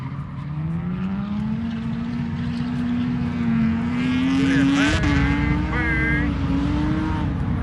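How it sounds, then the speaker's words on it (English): A drift car's engine holds a steady high-rev drone near redline in second gear, its pitch wavering and climbing slightly, loud and continuous with a brief tire chirp near the end. "He's redlining right there."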